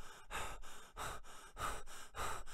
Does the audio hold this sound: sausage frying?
no